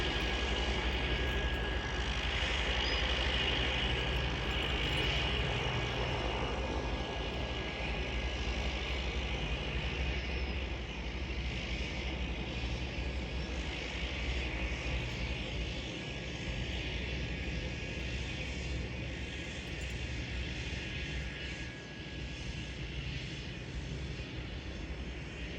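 Propeller seaplane taxiing on the water in Victoria, BC, a steady, loud engine drone with a broad low rumble and propeller hum that holds throughout, with no talk.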